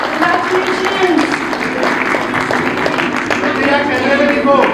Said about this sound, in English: Let's give them a thunderous round of applause, everyone!